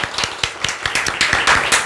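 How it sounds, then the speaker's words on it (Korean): A congregation claps at a Sunday church worship service to welcome a newcomer: brisk, fairly loud clapping from several people, close and steady for a couple of seconds. "환영의 의미에서 박수 한번 부탁드리겠습니다"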